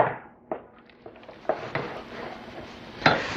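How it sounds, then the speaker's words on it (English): Mashed potatoes being stirred in a bowl for tuna and mashed potato puffs, with a spoon thudding and scraping at intervals, several distinct knocks over a soft, mushy background, close and clear. "And we're going to give them a really good stir."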